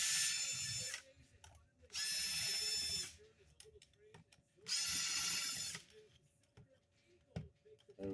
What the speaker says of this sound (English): Get these 4 screws right off of there.